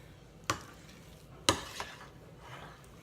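A spoon stirs potato filling in a bowl, giving two distinct scraping clinks against the dish, then soft wet mixing sounds, close and fairly quiet, with no talk.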